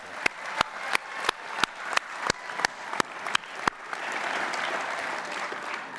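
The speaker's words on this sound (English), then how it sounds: "a round of applause as well for their." Audience at a University of Salford graduation ceremony for the School of Health and Society. A dozen crisp, evenly spaced claps ring out, then build into a full, sustained wash of crowd applause.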